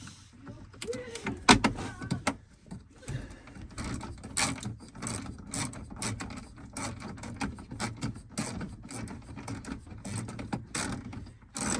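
A 7mm socket ratchet tightening bolts during an unexpected repair, a close, rapid clicking of the pawl in repeated bursts with metallic knocks and handling noise throughout.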